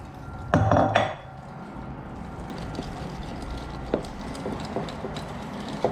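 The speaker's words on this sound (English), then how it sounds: "And let's whisk that together." Wet and dry vanilla cake batter ingredients are whisked together in a bowl, with a burst of clattering metal against the bowl followed by lighter, irregular clinks and taps.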